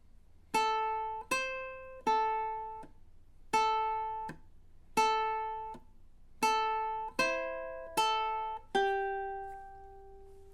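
Ukulele strummed in a steady rhythmic pattern, eight distinct plucked chords or notes ringing out one after another, quiet and close, with clean decays and no talking.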